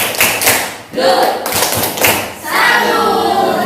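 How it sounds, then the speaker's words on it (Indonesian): Classroom students perform a "tepuk salut" clapping routine, loud rhythmic bursts of claps and thumps in quick patterned groups with a brief pause between, close and energetic. "yuk kita beri tepuk salut"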